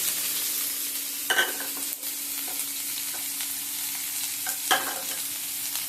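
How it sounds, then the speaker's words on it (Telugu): Onions fry in hot oil with a soft continuous sizzle, broken by a few louder scraping stirs of a spoon in the pan, close and quiet with no voices. "నూనె వేడెక్కింది. ఎర్రగడ్డలు వేస్తున్నాను."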